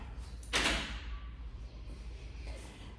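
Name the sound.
elevator door in apartment building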